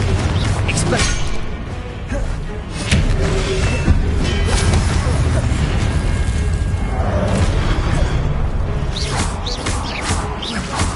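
Booming blasts of the Confringo spell in Hogwarts Legacy, loud and sustained, with heavy explosive crashes over dense battle noise and a voice heard amid the impacts.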